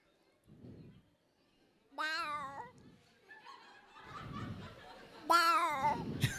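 A human voice imitates a cat's meow twice, high and wavering, mimicking two cats quarrelling, with low murmured speech and soft chuckles in between.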